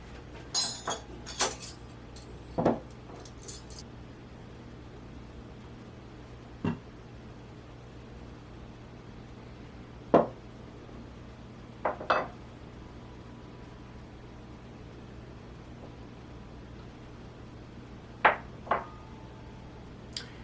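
Scattered light clinks of glass stemware, wine goblets and water glasses, set down on a table, a few isolated taps spaced seconds apart amid quiet room tone.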